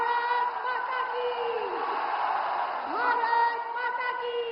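A large outdoor rally crowd on an airport ground in Forbesganj roars and cheers in welcome of Prime Minister Narendra Modi, a dense steady wash of voices with rising whoops and shouts.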